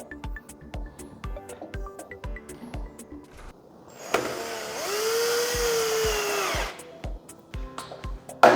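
Parkside Performance 12V cordless oscillating multi-tool with a delta sanding attachment runs in one steady, fairly loud buzzing burst of about two and a half seconds, with sparse clicks and handling knocks before and after.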